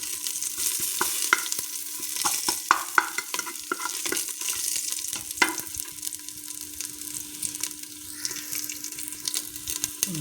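Mustard seed tempering for tomato saaru sizzles in a pan while a spoon stirs and scrapes, giving scattered clicks over a continuous fry hiss.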